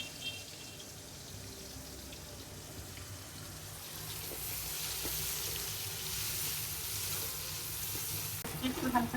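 Fish fries lightly in a pan with a soft, steady sizzle that swells slightly midway, close but quiet, with a brief clatter near the end.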